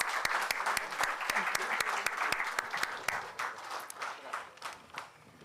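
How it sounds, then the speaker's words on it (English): Audience applause at a rural colloquium event in India, a steady wash of many hands clapping with sharp individual claps standing out, loud and sustained before easing slightly toward the end. "Another round of applause."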